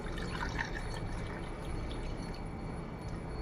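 Water poured from a cup into a small bowl to mix a baking soda cleaner, a steady faint splashing trickle lasting a few seconds, heard close with no voices.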